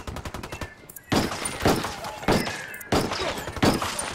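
Bursts of automatic gunfire in Ghost Recon Wildlands, a loud sustained volley followed by several more sharp rattling bursts, with a voice talking between them.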